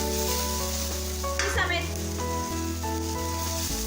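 Dragon chicken sizzling in a hot pan as sauce is stirred through it, a steady loud fry with a brief scraping burst partway through and low hum beneath.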